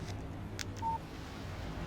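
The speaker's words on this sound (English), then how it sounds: "Text message from Barry." In the game Alan Wake, a phone chimes for an incoming text message: a few short electronic beeps ending in one clear sustained tone, set against a quiet low background hum.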